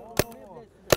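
Two sharp gunshots fired at a target on a range, brief loud cracks spaced under a second apart, with a voice talking faintly between them.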